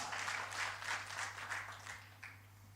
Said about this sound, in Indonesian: Tepuk tangan yang panjang buat Tuhan.